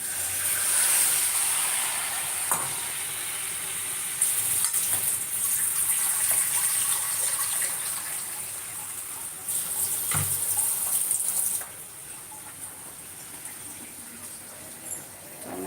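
Water is poured into a simmering jackfruit curry to make the gravy. It gives a steady hissing gush over the sizzling pot, close and moderately loud, then drops to a quieter simmer near the end.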